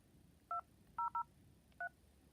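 Four short telephone keypad beeps, dual-tone and evenly clipped, pressed at an uneven pace over a faint line hiss.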